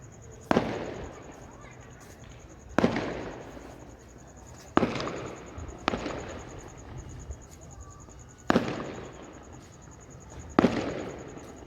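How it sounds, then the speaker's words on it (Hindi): Fireworks burst in the sky at a distance: six sharp booms at uneven intervals, each trailing off in crackle, over a constant high insect-like chirp in an outdoor setting. "आसमान में पटाखे फूटने लगते हैं"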